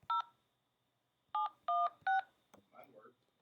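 Telephone keypad tones enter a 6-digit validation code, heard as a series of clean, loud beeps, one and then three more in quick succession, followed by a faint murmur of voices.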